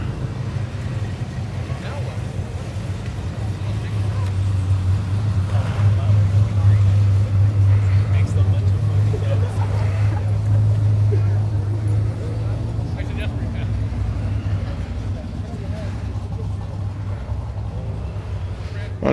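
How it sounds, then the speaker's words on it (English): Classic cars roll into a Pacific Coast Highway car show in Orange County, California, engines rumbling low and steady, swelling as one passes close in the middle, with road and wind noise and someone talking over it. "So the cars just keep rolling in here."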